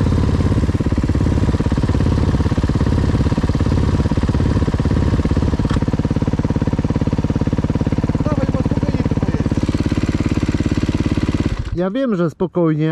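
Supermoto motorcycle fitted with an FMF exhaust idles at a gravel pit, a loud steady engine drone filling the whole stretch, with someone talking briefly over it near the end.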